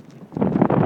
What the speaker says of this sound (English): We got winds 20 mile an hour,